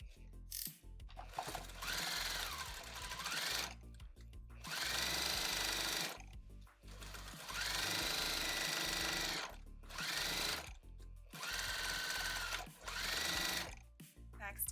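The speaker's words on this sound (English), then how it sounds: "So I'm going to sew it" A sewing machine stitches a 5/8 inch garment seam on a quilt coat, running in four long bursts with short pauses between them, close and steady, and there is no talking over it.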